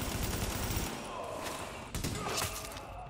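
Dense gunfire in the shooter video game The Division, a steady loud rattle of rapid shots filling the whole stretch with a few sharper cracks near the end, no voices over it.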